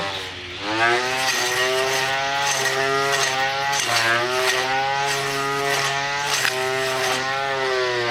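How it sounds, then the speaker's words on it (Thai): A battery-powered grass trimmer's motor whines loudly up close while cutting grass, its pitch surging and dipping in a steady rhythm roughly once a second. "เครื่องตัดหญ้านะครับ"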